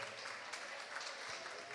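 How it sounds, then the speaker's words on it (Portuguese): Applause from an audience at an International Women's Day event, a faint, even wash of many hands clapping heard at a distance, steady for under two seconds. "Palmas, por gentileza."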